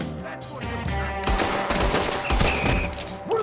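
Gunfire in Red Dead Redemption 2, a loud burst of rapid shots and fusillade breaking out after a quieter start, with a single voice briefly talking.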